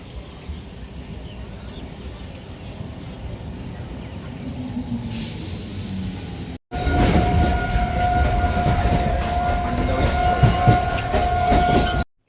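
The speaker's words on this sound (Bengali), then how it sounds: "ট্রেন ঢুকে গেছে" A passenger train pulls into a station near Naihati, first a low rumble building, then a sudden loud roar of wheels and carriages with a sustained horn-like tone and rattling clatter close by.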